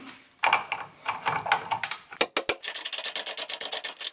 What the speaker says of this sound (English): Let's go ahead and loosen up this main support bolt here.